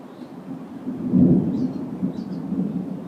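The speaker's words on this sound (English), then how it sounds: "And that is a good, loud, rolling clap of thunder." A loud, rolling clap of thunder from a strong thunderstorm in Hoover, Alabama swells deep and low, peaks about a second in, then rumbles on steadily with no talk.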